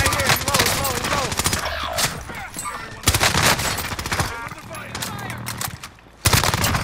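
Dense gunfire rattles through a Call of Duty: Modern Warfare match, with continuous bursts of automatic fire and explosions while players shout and talk excitedly over the shooting.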